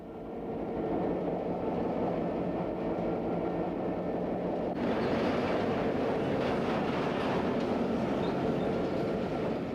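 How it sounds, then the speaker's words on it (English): Steady low rumble of a Santa Cruz, Big Trees & Pacific Railway train rolling slowly along the tracks, a continuous rail drone with brighter wheel noise swelling midway. "The train rolls along very slowly in this area for safety."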